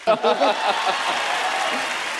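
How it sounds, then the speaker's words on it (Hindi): Studio audience applause and a few cheers on The Kapil Sharma Show burst up at the start, then settle into steady clapping that carries on at an even level. "इनके लिए जोरदार तालियां हमारे कलाकारों के लिए"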